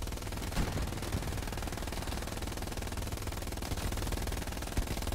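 Dense, continuous automatic fire from submachine guns in the World War II shooter Hell Let Loose, a loud rapid rattle running without pause and layered with more distant shots.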